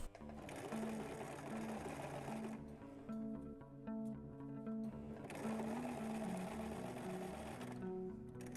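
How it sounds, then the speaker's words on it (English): A sewing machine stitches velvet seams on a dress or poncho being mended, running in steady close bursts with a short pause in the middle before it resumes. "What you have to do is to sew them perpendicular and then with a diagonal."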